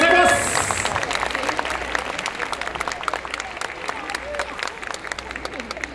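Applause from an audience at an outdoor yosakoi dance festival award ceremony, a sustained wash of many clapping hands at a distance, with a voice over a public address system speaking at the start.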